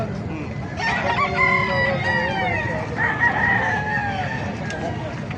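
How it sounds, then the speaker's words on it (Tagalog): White Kelso gamefowl roosters crow repeatedly at a chicken market in Calumpit, Bulacan, their overlapping calls rising over a busy background murmur with some clucking. "Pakita ko sa inyo mga maganda white kelso rito."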